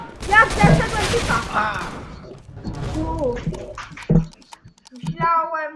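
Gunfire from the Roblox shooter Counter Blox, a few sharp bursts and shots mixed in with two players talking excitedly over them, with one loud crack near the end.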